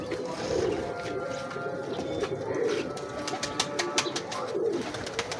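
Breeding pigeons from Ustad Imtiaz Hussain's line coo softly and repeatedly close by, with some wing flutters and light clicking sounds mixed in.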